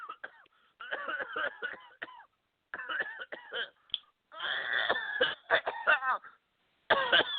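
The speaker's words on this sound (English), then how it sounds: "Your cough's familiar" Several bursts of throaty coughing and throat clearing over a phone line during a prank call, thin and band-limited, coming in clusters with short pauses between them.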